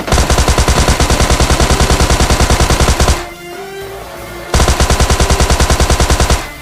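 Automatic gunfire in a battle royale game rattles in long rapid bursts, loud and close, with a short lull of quieter game noise between two sustained volleys.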